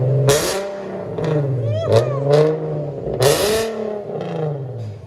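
A 2012 Infiniti G37 3.7L V6 revs hard several times through loud, raspy straight-piped dual exhaust with mufflers cut off, each rev rising and falling, close by with voices faintly underneath.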